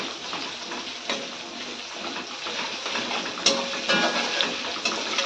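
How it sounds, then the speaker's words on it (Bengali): Onion pieces fry in oil with whole garam masala, bay leaf, dried chilli and cumin, making a bright, continuous sizzle close by. Crackles and spits sharpen the sound toward the end. "এবার আমি দিয়ে দেবো 4 টুকরো পেঁয়াজ। এবার আমি এটাকে ভালো করে ভেজে নেব।"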